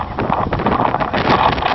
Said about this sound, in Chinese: 风哗哗的吹